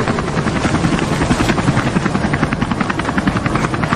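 A helicopter's rotor beats in a loud, fast, steady chop with an engine whine, close and continuous throughout, with no one speaking.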